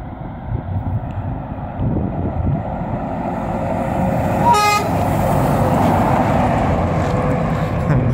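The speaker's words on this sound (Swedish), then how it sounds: "bra tuta i en Volvo FH" A single short, loud horn blast from a Volvo FH truck sounds over steady engine rumble and wind noise.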